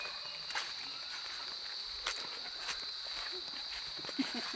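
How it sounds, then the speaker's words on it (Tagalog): A steady, high-pitched cricket chirring drones throughout on a mountainside, with scattered footsteps crunching softly underneath. "Kuliglig yun. Kuliglig."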